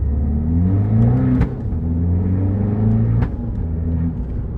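An Abarth 595's small engine rumbles and revs up through rising gears with two sharp shift clicks, loud and close with no voices.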